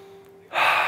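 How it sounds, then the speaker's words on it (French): A single deep inhale, a loud rushing intake of air that rises suddenly after a brief quiet tone and carries steadily to the end, close and clear with no talking. "Une grande respiration, ça détend."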